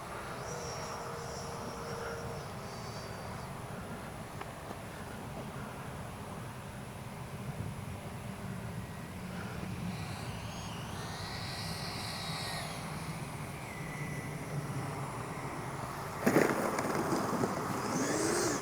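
A Freewing Avanti S V2 RC jet flying with landing flaps down on a summer day, its ducted-fan whine faint and steady, swelling and fading as it passes, with a sharp knock near the end.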